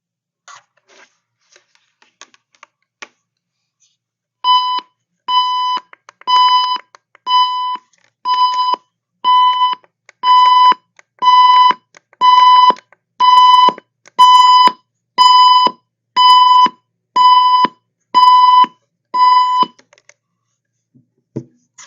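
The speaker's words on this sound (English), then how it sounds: "Okay, so I think you heard how loud that was, and I've set that for maximum volume." An extra loud clock radio alarm at maximum volume sounds alone: a piercing electronic tone pulses in an even series of about fifteen short, very loud bursts, then stops.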